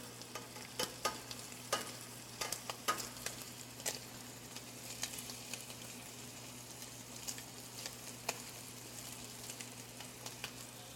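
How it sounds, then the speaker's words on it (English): Shrimp for scampi sear in a hot pan, a faint steady sizzle with scattered pops and ticks, left undisturbed, and a low hum beneath. "we're going to let it sit for about a minute or two without flipping it, without swirling, moving the shrimp around"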